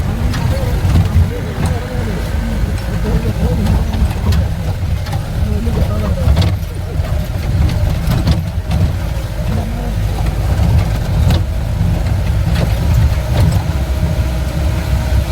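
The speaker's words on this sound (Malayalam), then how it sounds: "വണ്ടി പാറയ്ക്കകത്തൂടാണ് കയറി പോകുന്നത്." A jeep engine labours at steady mid revs while climbing a rocky trekking trail at Ramakkalmedu in Idukki, Kerala, a continuous close rumble with bumps and jolts over rock, and voices talking over it at times.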